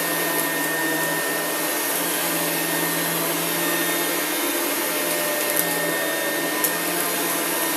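A Rainbow home cleaning system vacuum runs with a loud, steady whine and rushing airflow as it makes its final passes over the floor, holding an even tone throughout.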